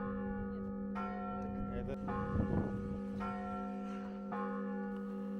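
Tower clock bells ring out at the Trinity Lavra bell tower in Sergiev Posad, the clockwork striking the quarter hour. Several clear strikes ring out at moderate distance, each leaving a long sustained hum.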